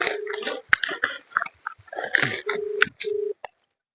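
Phone keypad tones sound while someone dials a call to a bank. Several short beeps come amid clicks and handling noises, then two longer steady tones near the end, close and fairly quiet.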